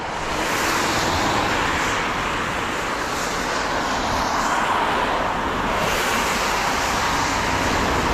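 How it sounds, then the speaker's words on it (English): Cars driving by on a road beside a walker, a steady close whoosh of tires and engines swelling and fading in a continuous stream with no break, no talking. "I was going to wait till cars went by"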